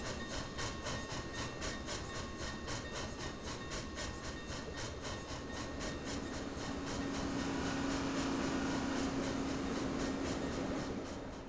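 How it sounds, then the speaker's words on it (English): Cotton Belt 819, an L1 Northern steam locomotive, crossing the Thebes Bridge over the Mississippi River, with a rhythmic clickety-clack of wheels, a low rumble and a steady hiss that grows slightly louder over time. "the train makes its way across the Thebes Bridge, crossing the Mississippi River into southern Illinois."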